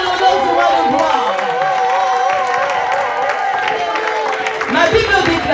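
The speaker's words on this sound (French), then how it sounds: "Des acclamations en l'honneur du roi le gloire." Congregation at a celebration church service cheering, clapping and acclaiming together, a loud continuous crowd roar with voices and shouts throughout, swelling again near the end.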